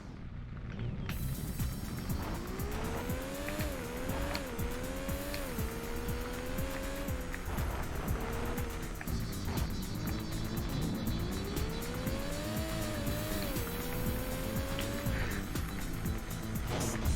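Racing game engine roar from a Porsche in Need for Speed: Porsche Unleashed on PS1, revs climbing and dropping through gear changes over a steady, loud run, with tire squeals breaking in around the turns.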